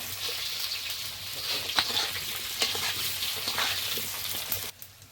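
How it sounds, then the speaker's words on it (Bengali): Food fries in a pan for a fish curry with taro, giving a moderate continuous sizzle and scattered stirring clicks. It cuts off sharply near the end, and no voice is heard. "একটু ভালো করে ভেজে নিতে হবে"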